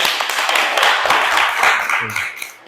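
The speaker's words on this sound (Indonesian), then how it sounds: "beri tepuk tangan teman-temannya" Classmates clap in a classroom, a dense, steady patter of many hands close by that tapers off near the end.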